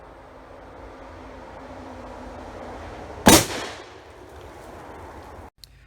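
A single sharp gunshot from a Northern Rockies Armory 1911 pistol chambered in 5.56 cracks mid-clip against quiet outdoor background noise, followed by a brief echo tail.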